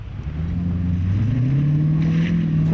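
A 4x4 truck engine labors and rises in pitch during an off-road trial on bumpy ground in Feilding, New Zealand. The motor roars steadily and builds up through the clip, fairly loud and close, with no talk over it.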